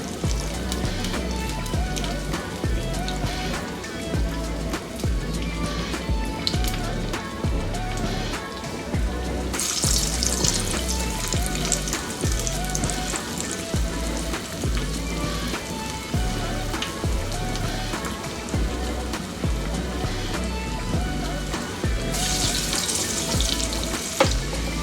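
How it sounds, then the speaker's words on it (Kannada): Lima bean vadas deep frying in hot oil over medium heat, a steady dense crackle and bubbling that runs continuously at close range, with no talk over it. "ಮೀಡಿಯಂ ಉರಿನಲ್ಲೇ ಇದನ್ನ ಡೀಪ್ ಫ್ರೈ ಮಾಡ್ಕೋಬೇಕು."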